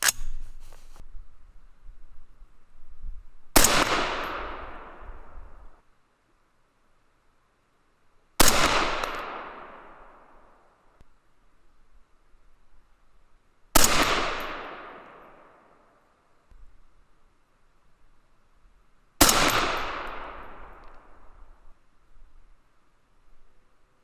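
Five loud, evenly spaced 6mm ARC rifle shots fired with light bullet loads, each a sharp crack with a long fading echo, separated by several seconds of quiet.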